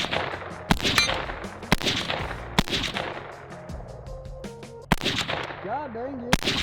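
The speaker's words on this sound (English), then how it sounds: "let's shoot this guy unsuppressed. A couple of shots here." Unsuppressed rifle shots from a police-style rifle ring out loud and near, several sharp blasts spaced a second or so apart with ringing tails, with faint voices in between.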